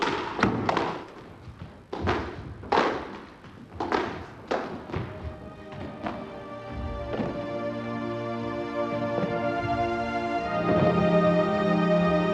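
A squash ball struck in a volley boast drill: a quick series of sharp thuds and taps in the first half, echoing in the court, before a sustained musical tone swells and takes over.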